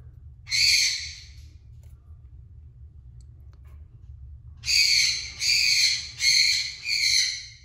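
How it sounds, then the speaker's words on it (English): A bird calls once, then four times in quick succession, loud tonal hoots over a steady low background rumble. "you guys hear the bird in the background?"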